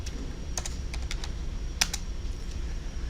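A run of typing on a computer keyboard, quick key taps in short bursts with one louder keystroke, close and alone over a faint room hum.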